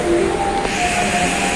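A local Pandanwangi train pulls into Jember station with a steady mechanical rumble and hiss, and brief squealing tones from the wheels or brakes over the continuous noise.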